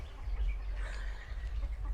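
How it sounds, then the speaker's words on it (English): Chickens cluck softly at a distance over low rumbling background noise, with a few faint, scattered calls across a brief stretch. "And then here they are, the chickens."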